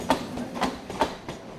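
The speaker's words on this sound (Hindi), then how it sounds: "जिन्हें मुंबई में लोकल ट्रेन कहा जाता है, मुंबई की जीवन रेखा है।" A Mumbai local train, an electric multiple unit, running on rails: a steady, rhythmic clickety-clack of wheels over rail joints, about four sharp beats in quick succession, close and loud.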